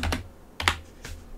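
Computer keyboard typed at close range, three quick bursts of key clicks spaced across a quiet room while a virtual machine name is entered.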